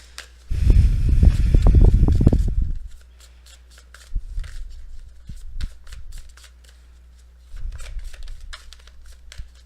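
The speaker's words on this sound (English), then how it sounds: "I just wanted to pre-shuffle the Tarot cards a little bit more." Tarot cards being shuffled by hand, a loud close burst of riffling flutter lasting a couple of seconds, followed by quieter intermittent card handling and rustling.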